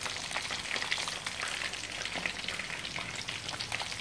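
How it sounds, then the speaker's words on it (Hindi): Rohu fish pieces, fried golden brown and spicy Lahori style, crackle and sizzle steadily in hot oil, a dense close frying hiss with small popping bursts throughout, no voices. "देखो इसी तरीके से आप फिश फ्राई करें।"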